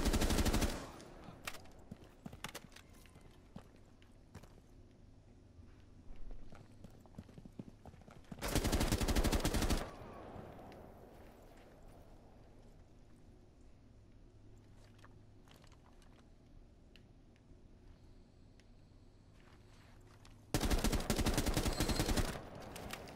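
Gunfire in the game Rainbow Six Siege, with two loud, dense bursts of rapid shots standing out sharply over a quieter stretch of in-game ambience and faint movement.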